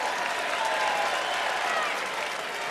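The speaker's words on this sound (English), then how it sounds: "People standing up and cheering." Darts crowd at the Masters standing and cheering, a dense, steady roar of applause and shouting that fills the whole stretch without letup.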